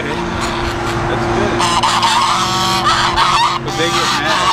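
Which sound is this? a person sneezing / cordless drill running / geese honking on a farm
geese honking on a farm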